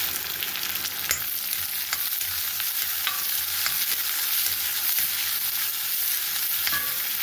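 Finely chopped onion sautés in oil in a pan, a steady soft sizzle with occasional scraping stirs and light clicks, close and continuous with no talking.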